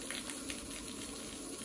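Water rushing through the hose of a wall-mounted pressure washer, a steady, moderately quiet hiss and gush with no pauses or voices.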